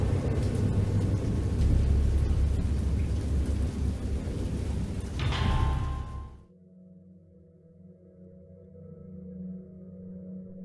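A storm's heavy rain and rolling thunder roar loudly and continuously for several seconds, then cut off abruptly, leaving a quiet, low tonal hum.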